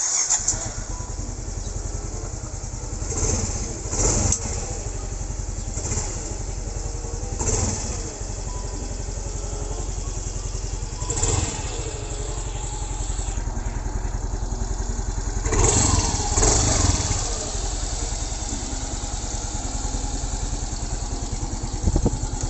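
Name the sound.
Yamaha Mio Soul i 125 scooter engine started and revved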